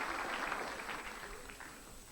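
An audience applauds after a 1993 men's snooker final, a steady wash of clapping that holds at moderate distance and slowly thins toward the end.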